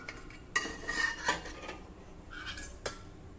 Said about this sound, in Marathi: इथे कुकर मध्ये आता हे डाळीचं भांड ठेवू।